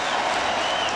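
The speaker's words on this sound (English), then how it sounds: "And they cheer him here at Shea Stadium." Baseball fans at Shea Stadium in New York cheer and applaud in a dense, loud burst of crowd noise during a 2003 Mets game against the Montreal Expos.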